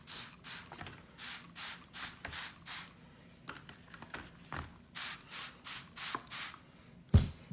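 A handheld spray bottle misting an orchid, giving a steady run of short, quiet, evenly spaced spritzes, each a brief hiss, close to the microphone.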